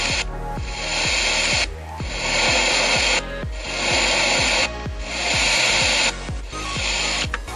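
An FM radio being tuned across the band, giving loud bursts of rushing static hiss that swell and cut out in turn, broken by brief clicks and low thumps, with no voices.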